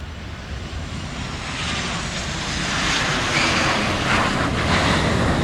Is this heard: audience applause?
no